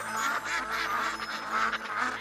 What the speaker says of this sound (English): Ducks can swim, ducks can fly, and ducks can walk on land.